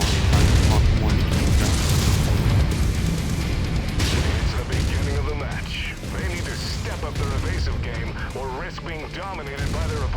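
Mech weapons fire during battle in MechWarrior 5: Mercenaries, a dense, continuous roar of booms, blasts and explosions under someone talking throughout.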